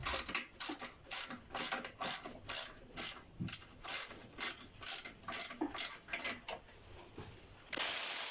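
Ratchet wrench loosening a fastener on a 1.6 HDI diesel engine, with about fifteen quick clicking bursts in a steady rhythm, close and clear, with no talk over it.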